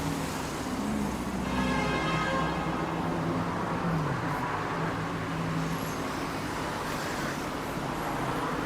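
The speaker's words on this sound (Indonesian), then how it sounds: "Ini bus-bus yang pergi ke Singapura" Buses and traffic rumble past in front of Times Square, Kuala Lumpur, with engines idling and pulling away close by, a tonal engine whine rising and falling over steady street noise.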